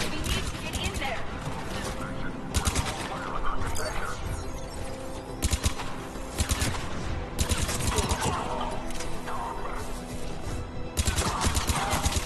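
Rapid bursts of gunfire at a checkpoint in Mass Effect 3, loud sustained volleys with short pauses between them, mixed with mechanical clanks and voices talking.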